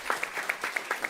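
Faint audience applause for a panel speaker at a regenerative food systems event, a brief patter of soft claps at an even rhythm.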